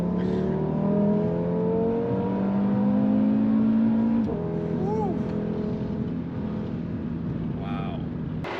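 An Audi RS3 running winter tires, tuned past 600 hp, accelerates hard through a corner, its engine note rising steadily and loud with a brief dip and recovery midway, heard from inside the car.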